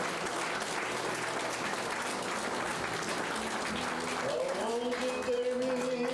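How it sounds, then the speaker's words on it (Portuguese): A church congregation applauding, a dense, steady wash of many hands clapping in a large room, with a faint sustained tone rising near the end. "Vamos aplaudir ao Senhor."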